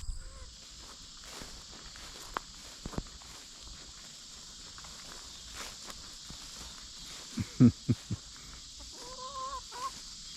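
Chickens cluck softly nearby over a quiet outdoor background, with a few sharp louder squawks in the middle and shuffling footsteps.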